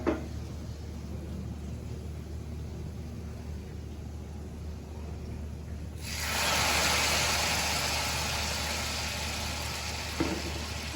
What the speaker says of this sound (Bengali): ডাল ভাজা হয়ে গেল।